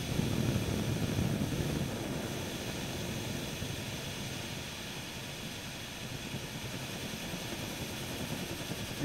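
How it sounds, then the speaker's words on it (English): A small alcohol pocket stove priming as its jets ignite gives a steady, close hissing roar like a tiny burner, a bit louder at first and then holding even for several seconds. "See now they're starting to prime itself from that little jet."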